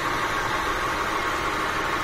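A 2001 Honda Accord engine idles at the point of overheating, a steady even hum with a broad whirring tone that holds level and unbroken throughout, with no talk.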